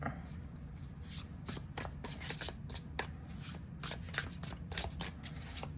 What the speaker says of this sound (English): So let's do some shuffling and see how they shuffle.